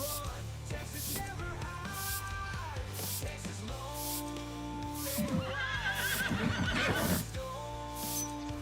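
Several horses in the video game Farming Simulator 25 neigh and whinny repeatedly, the calls loud and close, with faint hoof clip-clop and ambient music underneath.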